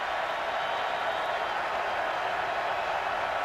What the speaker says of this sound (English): Crowd getting into it a little bit now, too.